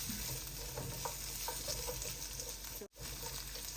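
Ginger and onions sauté in a pan with a faint, continuous sizzle and a few soft stirring scrapes, heard alone and fairly quiet.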